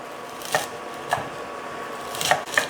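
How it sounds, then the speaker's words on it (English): A knife chops watercress into short pieces on a cutting board, four sharp distinct thuds spaced irregularly, close and clear with no talking. "I'm cutting the watercress into about 2 to 3 inches."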